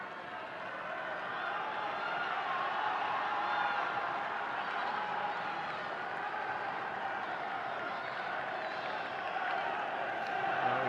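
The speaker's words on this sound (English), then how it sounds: "The crowd are playing their part." A football crowd at an FA Youth Cup semi-final between Aston Villa and Manchester United makes a steady distant roar with faint cheers, continuous and even throughout.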